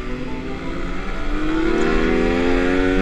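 A Suzuki Raider Fi motorcycle engine revs up close, its rising harmonic whine climbing steadily in pitch and loudness over a few seconds.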